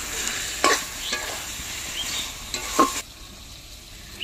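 Taro leaves cooking down with a hilsa fish head in an oily pan, giving a steady sizzle with a few sharp scraping stir strokes, then quieter frying toward the end.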